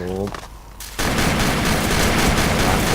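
Dense, continuous video-game gunfire from the game Fast Breaker, loud and sustained after a brief opening of voice and quieter sound, as a player is swarmed and shot.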